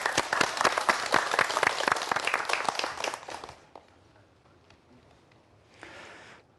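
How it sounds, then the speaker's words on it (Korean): Audience applause after a university lecture on quantum mechanics: a dense burst of clapping from a hall crowd that stops abruptly, followed by near silence and a brief faint noise. "다시 한번 박수 부탁드립니다."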